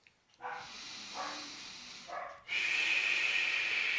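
A sustained hissing breath pushed out through pursed lips and tongue, demonstrated for spine rehabilitation breathing, rising after a few short softer breaths into a steady, loud, close hiss that holds to the end.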